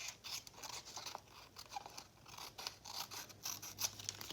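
Scissors snipping through junk mail envelope paper, a series of quiet crisp cuts and papery rustles, close but faint, spaced irregularly with no talking.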